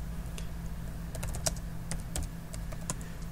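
Computer keyboard typing while configuring a Cisco router interface, a steady run of close, crisp key clicks with uneven rhythm and a low background hum.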